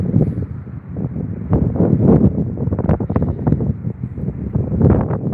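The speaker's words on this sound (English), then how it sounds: "It's quite windy, to be fair." Gusty outdoor wind near Heathrow Airport buffets a nearby microphone, a constant low roar with rapid rumbling bursts throughout.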